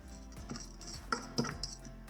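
Duck confit pieces being mixed with coarse salt in a dish for cassoulet, with scraping and bright clinks of a utensil against the dish in irregular bursts, close and fairly quiet.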